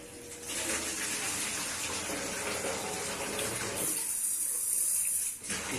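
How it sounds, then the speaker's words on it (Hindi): Whole moong dal lentils are rinsed in water, giving a continuous rushing, splashing sound from running water, close and steady, briefly fading near the end. "इसको 2-3 दफा दाल को हम धो लेंगे।"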